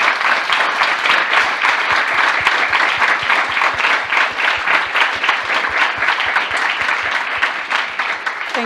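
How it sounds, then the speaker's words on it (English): Audience at a human rights talk with Kenneth Roth applauding steadily, dense even clapping from a full room that carries on for several seconds without a break and eases off slightly at the end. "I was going to ask for a round of applause to thank the speakers."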